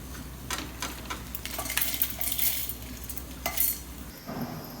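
Chopped ridge gourd frying in oil in a pan for a breakfast dish, with a steady soft sizzle and occasional stirring scrapes and light clinks of a utensil, close and alone.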